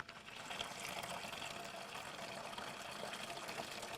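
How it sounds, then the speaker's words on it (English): Grape juice pours into a bucket for winemaking as a steady, soft rushing splash with no breaks, close and moderately quiet, with no voices. "I'm going to pour it into the bucket. It's important to pour slowly because it will splash."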